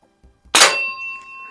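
A pellet from a Crosman 2240 airgun strikes a steel bell target in a garage, giving one sharp, loud metallic clang that rings on with a sustained tone after a couple of faint clicks.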